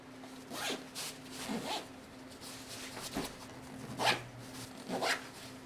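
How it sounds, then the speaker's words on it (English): Several short zipper pulls rasp nearby as a packing cube is compressed, quick bursts separated by pauses, with a faint low hum underneath. "Then we can use the little zipper on the side to compress this down."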